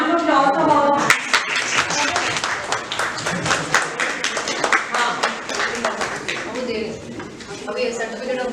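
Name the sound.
applause from conference audience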